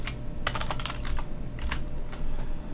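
Fast, light clicking of keys on a computer keyboard while entering an Excel formula, in quick irregular runs of taps heard close and alone.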